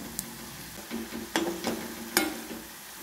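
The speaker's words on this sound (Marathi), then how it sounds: "असे मस्त बारीक गॅसवर फ्राय करायचे" Coriander vadi frying in a little oil over a low flame, a steady soft sizzle broken by a few sharper pops and scrapes of stirring, close up with no talking.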